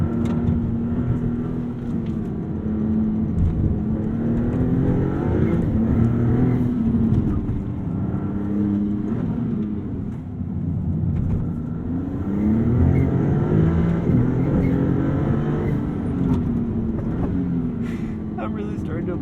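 Engine of a 2022 Maserati MC20 revving and rising and falling in pitch while the car is driven, a loud continuous drone heard from the cabin with a voice talking over it.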